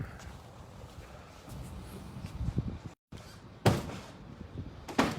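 A heavy Game of Thrones-style door with leather trim is opened at an entrance: a few loud thuds and latch clunks with a brief gap of silence, over low room rumble.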